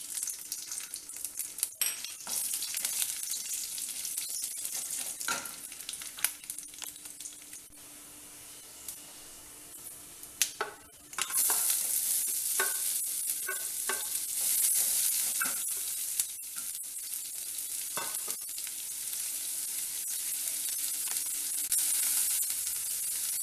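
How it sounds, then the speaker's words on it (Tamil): Onions sauté in a pan with mustard seeds, urad dal and cashews for savory rava puttu, a steady close sizzle and hiss with occasional scraping stirs, louder in the second half, no talking. "வெங்காயம் கொஞ்சம் வதங்கிச்சு."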